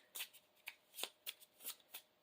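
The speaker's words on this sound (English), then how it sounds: "Shuffle the encounter deck." A deck of cards being riffle-shuffled repeatedly during a Marvel Champions card game, about eight quick crisp bursts in a steady rhythm, close by with no voices.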